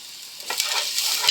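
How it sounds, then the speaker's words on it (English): Chopped onion hits hot rapeseed oil in a pan and breaks into a bright, steady sizzle that swells after a quiet start, crackling close up with no talking. "sizzle that for about 3 minutes until it goes soft"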